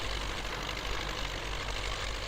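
Tatra Phoenix truck engine in Spintires: Mudrunner running steadily and loud close up, a continuous low rumble with no clear breaks between gear changes.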